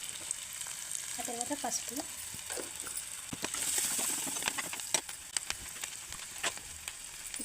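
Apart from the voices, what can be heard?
garlic, onion and cumin frying in hot oil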